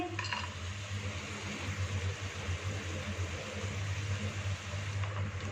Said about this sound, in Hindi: इनको 1 से 2 मिनट तक इसको बिल्कुल स्लो हीट पे हल्का सा फ्राई करेंगे।